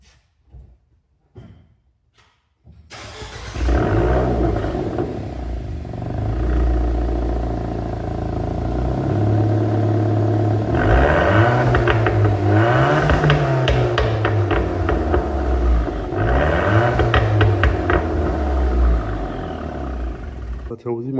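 A Renault Clio RS engine in a garage cranks and starts, then settles into a steady, loud idle with some rising revs and mechanical clatter, while someone talks over it.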